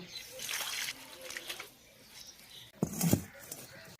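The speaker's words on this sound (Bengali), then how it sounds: "এরপর নিম পাতাটা ধুয়ে নেব।" Neem leaves being washed in water, soft splashing and trickling with a louder burst of sloshing near the end, quiet and close, with a voice faintly at times.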